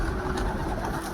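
Pigeons on a rooftop coo in a low, continuous murmur while they are being fed, heard close and alone for a brief moment.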